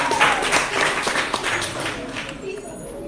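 Spelling bee audience applauding the thirteen remaining spellers, a dense wash of clapping that starts strong and slowly fades, with voices mixed in.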